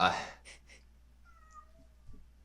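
A cat meows faintly and briefly in the background after a burst of nearby noise, with soft rustling around it in a quiet indoor setting.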